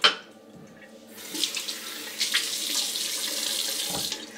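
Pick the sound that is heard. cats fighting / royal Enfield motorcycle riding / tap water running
tap water running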